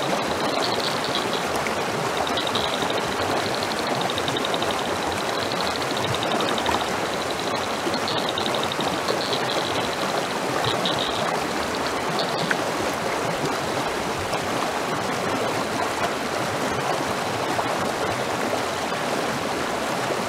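Creek water flows steadily during gold panning, a constant rushing babble that holds an even level for twenty seconds, with a faint high tone drifting in and out early on and no speech.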